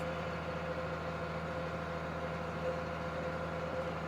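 A 40-year-old tractor with auto steer drones steadily while planting corn, its engine a low, even hum heard from inside the cab, faint and unchanging throughout with no talking.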